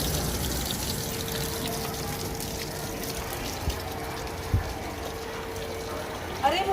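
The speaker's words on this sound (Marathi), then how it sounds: "अरे मुलांनो, हे नळ कोणी सुरू ठेवले बरं?" Water runs continuously from a tap left open, a quiet, steady flow with a faint hum and a few small knocks, while people talk nearby.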